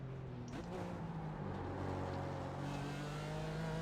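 GT4 race car lapping Daytona in the iRacing sim, a steady loud engine drone holding near-constant pitch throughout, with a brief shift blip early on and a faint voice underneath.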